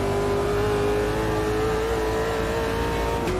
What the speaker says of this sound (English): There are some additional popping and banging noises going on, but the main engine sound itself is